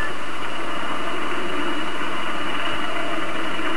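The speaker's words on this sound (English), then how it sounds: "Keying engine." A Pelican dropship's engine in the Halo 4 video game hums in a steady, loud, broadband drone with a constant mechanical rumble, no voices over it.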